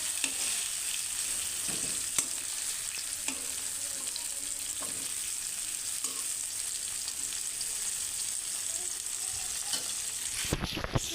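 Fish heads fry in a pan until burnt, giving a constant dense sizzle close up, with occasional soft taps of stirring and a louder clatter right at the end.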